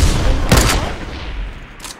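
Gunfire in the video game Fortnite, a loud close burst of shots over a rumbling game background, followed by a fainter shot near the end.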